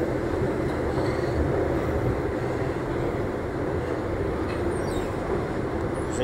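A metro train runs through a station, a loud, continuous rumble and wheel roar with faint squeals and clatter throughout, steady and close, with no talking.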